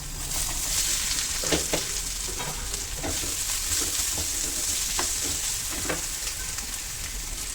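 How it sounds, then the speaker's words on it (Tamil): Ginger and garlic sizzling in hot oil as the base for onion samosa stuffing, a steady hiss of frying with a few light stirring taps scattered through. "இஞ்சி பூண்டு ஆயில் ஊற்றி இஞ்சி பூண்டு போட்டுக்கிறேன்"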